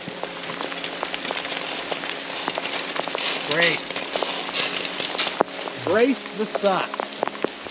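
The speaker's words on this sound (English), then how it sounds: "Rain is coming down heavy." Heavy rain hisses and patters steadily while riding a Harley-Davidson Pan America motorcycle through redwoods on the Pacific Coast Highway, with riders talking over it.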